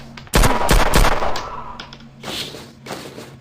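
Loud, close gunfire from a shooting video game with a short shotgun and pistol: a rapid burst of shots followed by a decaying rumble, then a few fainter trailing bursts.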